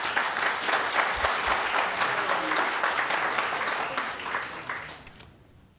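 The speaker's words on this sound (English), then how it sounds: "Please refrain from applauding in the audience." An audience at a candidate forum for California's 43rd Assembly District breaks into steady applause that carries for about five seconds, then tapers off quickly to near quiet.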